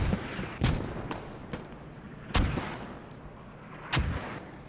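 Mortar rounds fire in a video game battle: several heavy, booming thuds spaced a second or two apart, three of them especially loud, over a low rumbling background.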